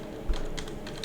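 Commands are typed on a computer keyboard, a brief run of light, quick key clicks at close range with no talking.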